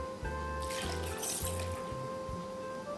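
Liquid pours and trickles out of two opened cans of green beans as they drain, a steady close watery splashing with a faint hum in the background and no talk.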